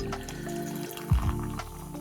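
A fizzy drink being poured and settling, with soft bubbling and trickling liquid up close and a brief splashy gulp midway, moderately quiet and without talk.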